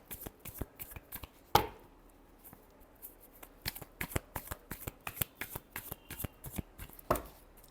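Tarot cards are shuffled by hand in quick, crisp riffling bursts, with soft papery flicks and a couple of sharper slaps, close and fairly quiet, with no talking.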